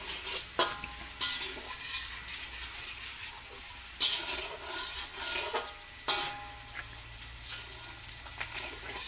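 Onions and chicken sauté in oil with a quiet sizzle, while a utensil scrapes and taps the pan in irregular stirring strokes.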